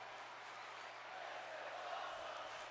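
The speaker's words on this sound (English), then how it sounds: "you can hear the crowd chant, "This is awesome!"" Wrestling arena crowd during a match, a dense steady roar of many voices chanting together in unison, loud and continuous throughout with no other sound standing out.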